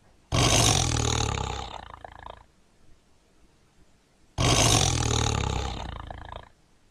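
Two loud, close tiger roars, each a long rasping blast lasting about two seconds, separated by a quiet pause with no other sound.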